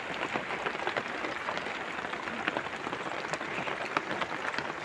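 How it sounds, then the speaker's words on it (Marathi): Steady rain falling outdoors in a rural setting near filled drums and a parked bicycle, a dense continuous patter with scattered sharper drops throughout, fairly close and even in loudness, with no talking. "आणि आता हे पाऊस बघा"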